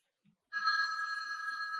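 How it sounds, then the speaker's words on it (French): A telephone rings in a quiet home in the evening, a steady bright electronic tone starting abruptly after a brief silence and holding on near and clear without any talk. "en soirée. Coup de téléphone."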